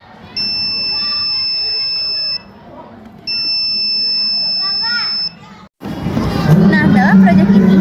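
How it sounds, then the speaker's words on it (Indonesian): Two long, steady electronic buzzer alarm tones from an Arduino earthquake detector sound one after the other, then noisy crowd chatter and voices break in. "Arduino tersebut akan mengeluarkan output berupa buzzer atau alarm yang akan berbunyi"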